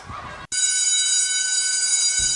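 An electric school bell rings for noon, a steady loud metallic ring that starts abruptly after a short burst of background noise and continues unbroken.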